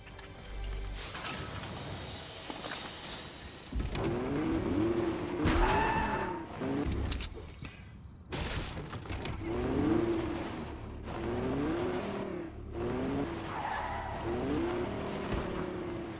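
Cars in the Fortnite video game skid and squeal their tires in repeated bursts, with engine roar and impacts layered through a busy, loud stretch of gameplay.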